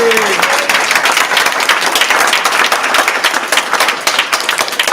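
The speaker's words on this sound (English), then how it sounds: "Let's give our students another round of applause" School ceremony audience applauding students, a loud, dense burst of many hands clapping that holds throughout, with a brief voice at the very start.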